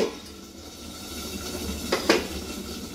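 Lid placed over a pan of tandoori chicken in a home kitchen, a brief metallic clink and rattle against the rim amid low background hum.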